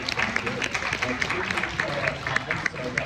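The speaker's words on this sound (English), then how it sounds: "Huge round of applause for this panel and all these insights and wisdom." Applause from an audience at a panel on entheogenic substances at a cannabis conference in Miami, a steady wash of many hands with some crowd voices mixed in throughout.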